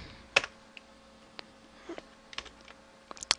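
Computer keyboard typing code, scattered irregular key clicks and taps at close range, some sharper strikes among lighter presses, in an otherwise quiet room.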